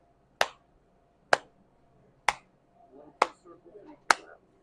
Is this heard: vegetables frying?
no